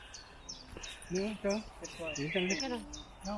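Faint, high chirps of birds repeat in the background at Center Parcs in the UK while a person speaks in Filipino in the foreground.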